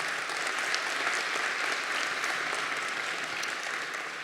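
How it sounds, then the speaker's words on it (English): Audience at a Dearborn teacher of the year and student awards ceremony giving a steady, full round of applause, moderately loud and sustained throughout. "Let's give everyone a great round of applause."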